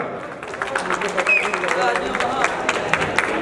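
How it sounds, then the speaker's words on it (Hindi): Hostel audience applauds to welcome comedian Devraj onto the stage at a boys' hostel comedy and guitar show: dense, sustained clapping from a crowd, with some voices mixed in throughout. "जोरदार तालियों से स्वागत कीजिए"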